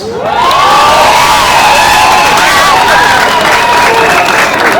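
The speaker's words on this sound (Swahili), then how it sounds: "Asanteni sana, tuwapigie makofi." A large school crowd at a bus handover ceremony applauds and cheers loudly, with children shouting and whooping over sustained clapping throughout.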